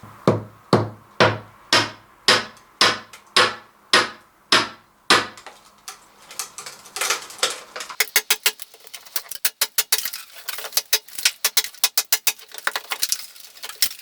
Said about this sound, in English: I'm just going to do this gently with a cold chisel and a mallet, and all I'm trying to do is remove the plaster that's already popped